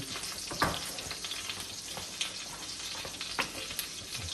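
A three-egg cheese omelette sizzles quietly in a pan as the cheese melts, a soft continuous frying hiss broken by a few faint clicks and pops, with no voices.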